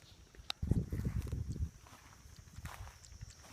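A mare's hooves shuffle and thud on the ground in a short cluster of close, muffled steps, then quieter scuffs while she is given water in a hot village yard.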